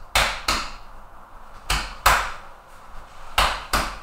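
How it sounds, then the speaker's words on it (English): A palm slapping the chest in body percussion: six hollow, thumpy hits in three quick pairs, close and fairly dry, each pair separated by a short pause. "we can make a noise by tapping the hand on the chest"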